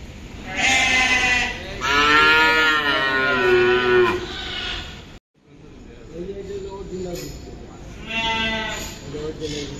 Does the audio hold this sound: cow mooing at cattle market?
yes